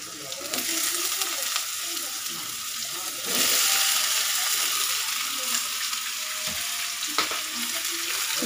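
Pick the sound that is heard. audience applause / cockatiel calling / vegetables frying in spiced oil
vegetables frying in spiced oil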